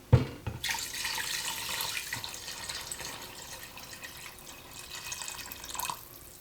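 Water is poured from cups into a pressure cooker for red beans, a close, steady splashing pour that starts with a knock and runs for about five seconds before tailing off.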